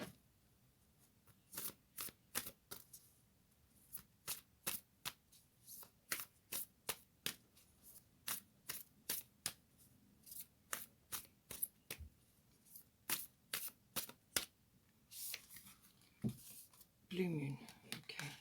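Moonology oracle cards riffled and shuffled in many quick crisp bursts, a steady rhythmic run of close, sharp card flutters with brief pauses between, and a denser rustling handling at the end.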